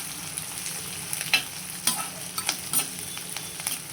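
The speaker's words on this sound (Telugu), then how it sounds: "కొంచెం కలర్ మారేదాకా వేయించుకోవాలి" Onion, green chili and curry leaves crackle and sizzle in hot oil in a pan, a continuous close fry broken by several sharp scraping stirs at irregular intervals.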